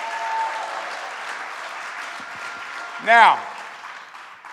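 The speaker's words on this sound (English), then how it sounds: "let's give them a round of applause" Crowd applause rolls through a rally for paid family leave in Harlem, a dense sustained clatter of clapping heard at a distance, with a brief spoken word from a speaker over the top.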